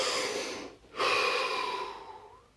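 A slow, deep breath drawn in and released, close and steady, with a brief pause between the exhale and the next long, airy breath.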